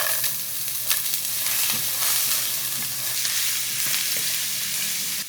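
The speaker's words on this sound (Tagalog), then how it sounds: "So maggisa muna tayo ng bawang. Next, yung carrots." Garlic and carrots sauté in a hot pan for leftover fried rice, a bright steady sizzle with occasional scraping and stirring clicks, close and continuous, no voices.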